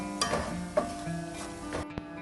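Garlic and organic red pepper flakes stirred in a pan of aglio e olio sauce, a soft low sizzle under a few scraping strokes of the spoon, with a brief clatter near the end.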